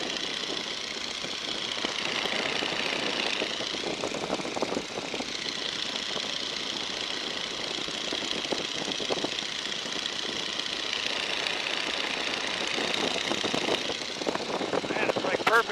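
A 1942 Boeing Stearman biplane's engine drones steadily in flight with power reduced toward 1,750 RPM, a continuous broadband roar with wind noise filling the cabin, while voices talk over it.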